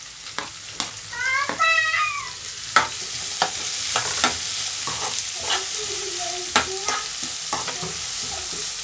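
Chopped onions and chili fry and sizzle in a pan while being stirred, with loud scraping and clanking strokes throughout. A cat meows a few times, loudest near the start.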